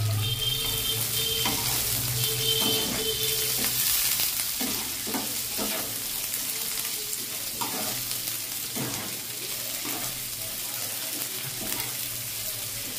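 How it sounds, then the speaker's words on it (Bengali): Onion frying lightly in a pan, a steady soft sizzle running the whole time with occasional stirring scrapes, close and fairly quiet. "পেঁয়াজটা একটু হালকা হালকা ভাজা হবে, খুব একটা ডিপ ফ্রাই কোনোটাই হবে না"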